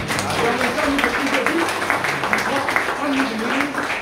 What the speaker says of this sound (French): Qu'applaudit le Seigneur pour ça